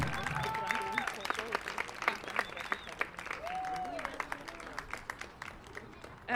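An audience at a children's club stage event claps steadily for several seconds, with a host's voice talking over the applause.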